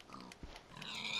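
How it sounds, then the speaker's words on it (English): A pig in Minecraft gives a short grunt, close and fairly faint, over a quiet game background. "Poor pig."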